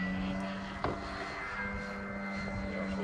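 Flex Innovations RV8 60e electric RC airplane in flight, a steady motor and propeller whine held at a constant pitch for the whole stretch with a brief bump near the start, no voices.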